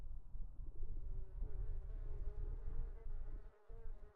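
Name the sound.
bees buzzing in a video game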